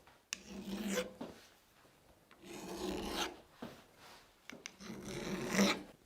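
Hand file rasping a chamfer around the face of a vintage ball peen hammer head, three slow separate strokes with pauses between, close and fairly quiet, with no voices.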